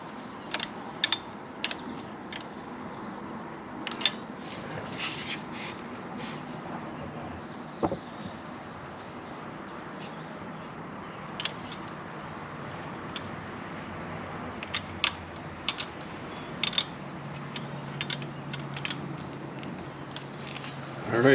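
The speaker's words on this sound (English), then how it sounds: "Now I'm going to snug down the lock nuts before I torque them." A 14mm wrench snugs down the lock nuts on a Harley-Davidson Road Glide shift linkage, giving intermittent metallic clicks and ratcheting taps scattered across a quiet garage, with someone talking at times.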